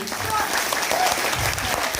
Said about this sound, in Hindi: सर उस समय हमारे उज्जवल सर के लिए बात जोरदार ताली होनी चाहिए।